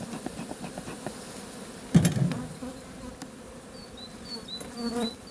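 Honeybees buzz steadily at close range at the hive, a dense droning swarm with a brief louder burst partway through and higher whines passing near the end.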